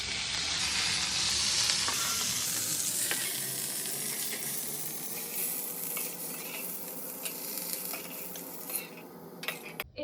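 Pointed gourd (potol) frying in oil in a pan, a dense continuous sizzle throughout with occasional utensil clinks and stirring scrapes, close and fairly loud.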